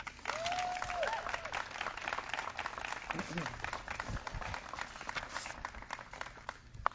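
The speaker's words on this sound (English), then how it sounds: "let's give a huge round of applause to Mr. Cesar Cordova" Audience applause at an elementary school ribbon cutting for a family and community center, a steady patter of many hands clapping at moderate distance, with a brief vocal sound near the start.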